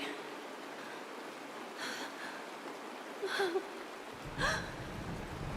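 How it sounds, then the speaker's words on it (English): Rain falling in a Honkai Star Rail scene, a soft, steady hiss of rainfall with brief louder splashes, fairly quiet throughout. "It's raining!"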